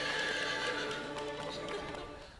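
A horse neighs and whinnies loudly and close, with clip-clop hoofbeats on rock running underneath, in a rocky bluff setting by a cave; the sound stays dense and continuous, fading slightly at the end.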